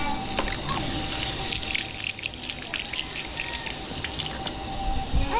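A kitchen tap runs into a sink as blackberries are rinsed, a steady close splashing stream with small drips, heard alone without talk.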